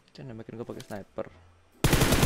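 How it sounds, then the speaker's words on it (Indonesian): Automatic gunfire in the mobile battle-royale game PUBG Mobile bursts in loudly and abruptly near the end, right after a stretch of someone talking. "Nekat banget mereka nembakin gue di luar zona"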